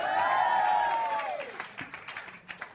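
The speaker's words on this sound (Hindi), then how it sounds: "एक बार जोरदार तालियाँ for Walk Talk man." Audience clapping at a comedy roast show, a short burst of scattered applause that rises after a descending tonal sound at the start and fades into uneven, lighter claps.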